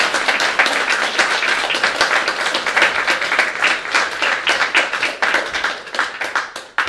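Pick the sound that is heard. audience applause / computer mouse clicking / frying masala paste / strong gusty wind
audience applause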